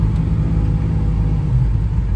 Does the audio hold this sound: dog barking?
no